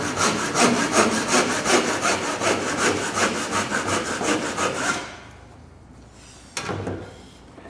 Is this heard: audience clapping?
no